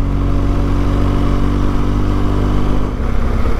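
A BMW GS motorcycle's boxer engine drones steadily and loud up close while riding on a road in Wales, an even low throb with a brief dip near the end.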